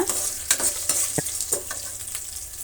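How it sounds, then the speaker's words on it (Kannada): Cashews frying in hot oil in a pan while coconut rice is prepared, with a steady close sizzle broken by several sharp clinks and scrapes of a spoon stirring; no voices. "ಈಗ ನಾವು ಸ್ವಲ್ಪ ಗೋಡಂಬಿನ ಸೇರಿಸ್ತಾ ಇದ್ದೀನಿ."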